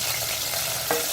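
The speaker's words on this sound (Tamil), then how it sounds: "கடுகு நல்லா பொரிஞ்சு வந்ததுக்கப்புறம் நம்ம வச்சுருக்க 3 காஞ்ச மிளகா, கருவேப்பிலை இதெல்லாம் போட்டுக்கணும்" Mustard seeds, three dried red chilies and curry leaves crackle in hot oil while a rasam tempering is made. A short, steady sizzle runs close throughout, with one brief pop near the end.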